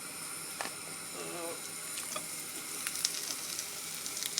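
Marinated chicken for satay sizzles in a pan with a tiny bit of oil, a soft, steady hiss with occasional small pops and spits.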